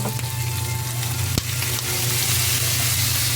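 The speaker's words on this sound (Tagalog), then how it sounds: "Ganyan ako magluto ng munggo." Mung beans sautéed in a pan with onion, a loud, steady close sizzle with a single sharp clack of a utensil partway through and constant stirring noise.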